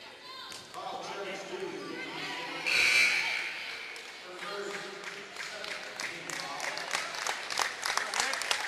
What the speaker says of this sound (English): who receives a nice round of applause as she exits